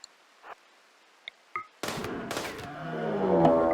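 Gunfire in the RimWorld video game: a few faint clicks and small impacts, then a sudden loud burst of shots followed by a sustained roaring, rumbling tail that builds toward the end.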